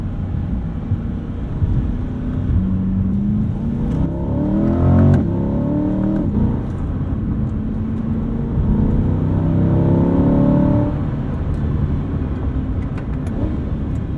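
A Chevrolet Corvette C8 on busy residential roads, heard from inside the cabin as a deep, steady engine drone that swells with gentle throttle and eases off, with no talking over it.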